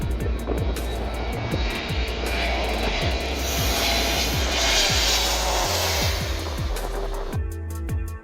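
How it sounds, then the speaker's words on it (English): An Airbus A321neo jet on a low approach at Skiathos airport in Greece roars steadily overhead, a loud, sustained broadband engine wash that swells and fades, heard without any talk. "an Airbus A321neo is nearing the descent to low."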